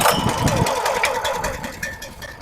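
A log splitter's small engine runs steadily after starting, warming up with the choke still on, a continuous mid-pitched idle with some rattly texture, close and fairly loud with no voices.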